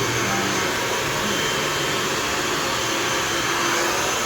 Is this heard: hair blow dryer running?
yes